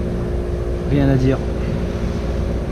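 A sailboat motors at sea off the Giens peninsula near Porquerolles, its engine a steady low drone throughout, with a voice speaking briefly over it.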